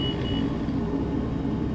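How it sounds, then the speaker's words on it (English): In Microsoft Flight Simulator during an overspeed, a steady electronic warning tone sounds briefly at the start over a continuous low engine and airflow rumble, alone without speech. "And what's that? Alarm. That's not something you want to hear normally."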